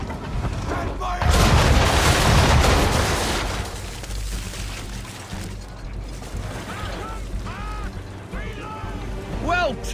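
A ship's cannon broadside fires in Assassin's Creed III: a loud rolling blast of booms that swells early and slowly fades, followed by wooden creaks and faint shouts.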